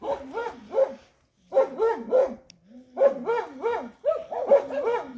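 A dog barks in several quick bursts of sharp, high yaps, close by, with short pauses between the volleys.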